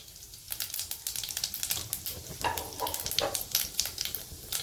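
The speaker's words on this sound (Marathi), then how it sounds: "तेल गरम झालेले, आपण आधी आता जिरे टाकून घेऊ" Cumin seeds crackling and sizzling as they drop into hot oil in a kadhai, a steady close frying hiss with sharp spattering pops building midway, no talk.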